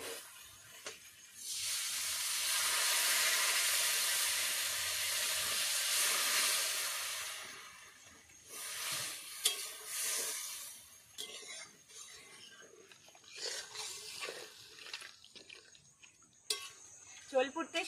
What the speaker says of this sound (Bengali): এবারে দেব ঝোলের জন্য জল।